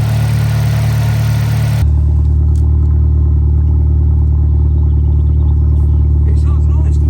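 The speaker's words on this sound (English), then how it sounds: "Listen to how smooth that runs." Steady, smooth idle from an abandoned Vauxhall Corsa VXR fitted with an aftermarket exhaust: a deep, even engine hum held close throughout, with a sudden shift in tone just under two seconds in.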